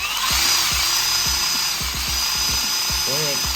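A power drill whines steadily up close while clearancing parts on an Arrma Vendetta RC car after a gear swap, with a series of rhythmic grinding knocks under the high motor tone.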